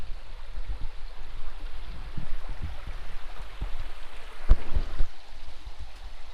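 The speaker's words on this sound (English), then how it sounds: "I'll show you the creek." A creek flows along a walking track near steps at Lake Oberon, making a steady broad wash of running water, close and continuous with a few sharper splashes near the end.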